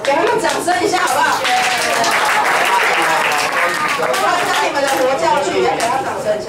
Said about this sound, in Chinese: 给他们掌声一下，好不好？